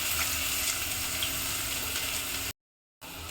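Garlic, ginger and a large onion frying in hot oil for a vegetable biryani, giving a steady, dense sizzle that runs close and loud, breaks off into a brief silence, then resumes.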